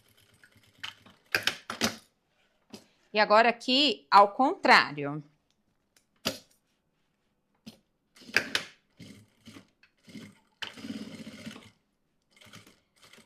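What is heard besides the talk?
sewing machine stitching a zippered pouch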